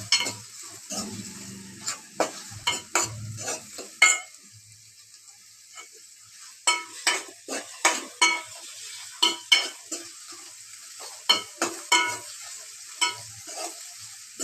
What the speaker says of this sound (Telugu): ఉల్లిపాయ వేగిపోయిన తర్వాత సోరకాయ ముక్కలు వేసుకున్నాం ఫ్రెండ్స్.